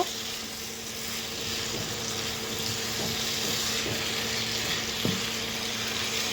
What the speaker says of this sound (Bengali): এখন আমি আলুগুলো ভালো করে কষিয়ে নেব